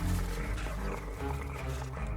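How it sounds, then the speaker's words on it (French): Wolves growl in an animated cartoon, a low, steady, rumbling snarl that runs loud and continuous for about two seconds with no talk over it. "Nous sommes suivis par des loups."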